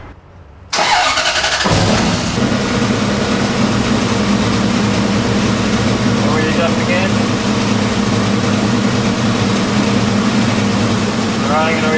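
A car engine cranks and catches after a quiet moment, then settles into a loud, steady running drone during an ignition timing check with a timing light, staying even throughout with faint voices in the background.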